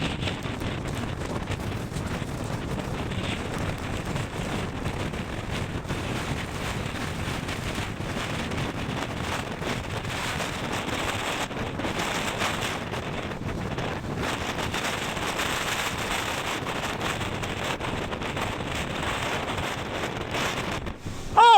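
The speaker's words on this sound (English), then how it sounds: "I'm going to stand on the wind like Bernie is." Hurricane wind gusting around 140 km/h roars steadily across the microphone, a dense, constant rush of buffeting noise with no pauses, loud throughout.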